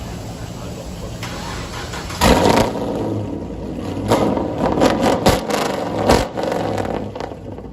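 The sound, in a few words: Dodge Hellcat with new exhaust revving and launching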